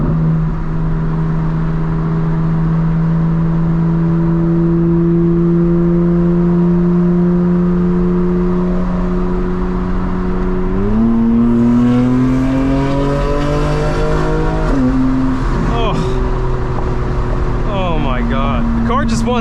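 A fully modified 2025 BMW M4 engine revs hard while driving, holding a steady drone before climbing and dropping with upshifts, loud and close from inside the car.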